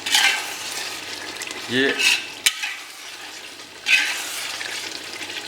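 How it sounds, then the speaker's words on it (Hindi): Masala for Tehsildari mutton korma frying as it is stirred in a pan, with soft sizzling, scraping bursts near the start and again later, and a brief sharp clack in between. "बहुत बढ़िया मसाला बन रहा है"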